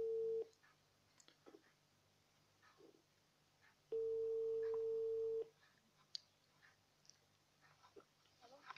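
A telephone ringback tone on an outgoing call, made before a phone conversation: one short steady tone at the start, then a long clear tone of about one and a half seconds, with quiet room noise in the gaps.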